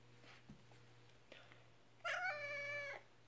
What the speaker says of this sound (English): this cat's complaining because he can't go outside